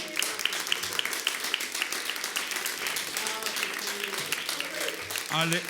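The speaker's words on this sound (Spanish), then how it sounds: "Damos un aplauso a Dios porque está Ale aquí." A church congregation applauds during a service, steady mid-level clapping filling the room while a voice talks over it.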